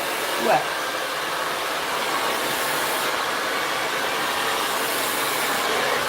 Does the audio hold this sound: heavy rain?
no